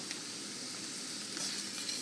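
Onions cooking in a pan for grape leaf dolma, giving a soft, steady sizzle that stays faint and constant throughout.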